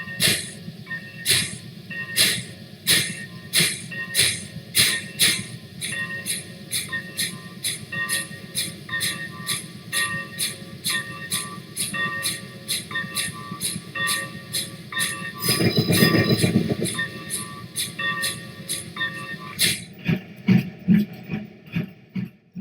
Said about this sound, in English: A few minutes later, Steve was backing into Harrison Station to collect his train